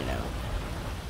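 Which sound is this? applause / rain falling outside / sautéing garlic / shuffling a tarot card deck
rain falling outside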